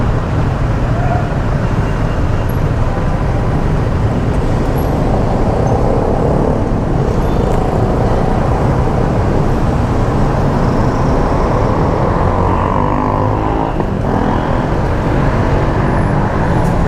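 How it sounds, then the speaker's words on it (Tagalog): Dense, continuous road traffic in North Fairview, Philippines, with cars and buses forming a loud, steady roar of engines and tires, close by and unbroken, with no voices. "Grabe yung traffic sa Pinas."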